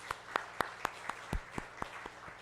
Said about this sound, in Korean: 데콘 팀원들에게 수고했습니다. 박수하겠습니다.